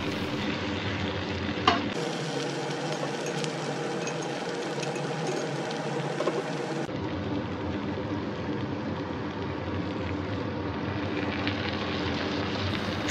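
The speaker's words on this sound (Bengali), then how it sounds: "সর্ষে পোস্ত গোলানো জল দিয়ে চিংড়ি পটলের সঙ্গে ভালোভাবে নেড়ে চেড়ে মিশিয়ে দিয়ে" Prawns and pointed gourd being stirred in a pan after mustard-poppy water is added, giving a steady wet sizzle with scraping stir strokes and a brief clatter near the start, continuous and close with no talk.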